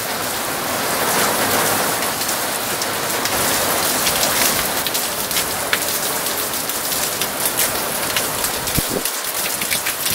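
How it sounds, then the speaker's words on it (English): Heavy monsoon rain pours outside a garage during a UK summer storm, a dense, steady hiss of drops drumming on surfaces close by, continuous and loud for the whole stretch with no voices. "It's monsoon season in the UK."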